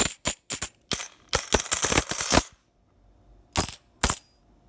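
Clad, 40% and 90% silver half-dollar coins dropped one after another onto a hard surface, giving a quick series of sharp metallic clinks with short rings, then a pause and two last separate drops.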